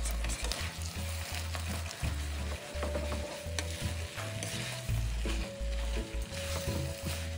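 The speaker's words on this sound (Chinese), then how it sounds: "再调回高火，将米粉与其他食材翻拌均匀。" Rice vermicelli stir-fried with mackerel in a wok over high heat, with a steady sizzle broken by repeated stirring and tossing scrapes in an irregular rhythm, close up, with no talking.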